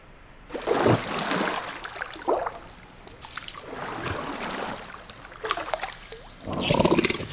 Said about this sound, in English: The gurgling of water,